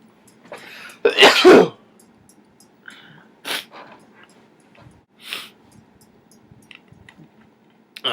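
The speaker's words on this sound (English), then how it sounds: "once I start sneezing, I kept on sneezing over like about 20 times in a row" A loud, sharp sneeze bursts out, followed by a few smaller snorts and throat sounds spaced apart in an otherwise quiet room.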